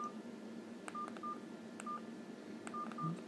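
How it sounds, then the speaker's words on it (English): Keypad tones of an Alcatel 2000 mobile phone: several short, clean beeps pressed at an uneven rhythm, some in quick pairs, close and fairly faint over a low background hum. "and the keypad tones"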